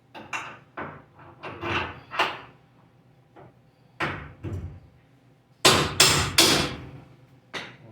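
Sharp metallic hammer strikes on the suspension of a 1996 Ford Ranger ring out irregularly, some single blows and a few rapid clusters, loud and close with brief pauses between.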